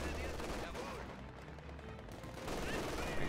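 Machine gun fire in Company of Heroes 2 from a Wehrmacht MG team suppressing behind Grenadiers, with a dense ongoing rattle of gunfire and battle noise, quiet in the mix and swelling slightly toward the end.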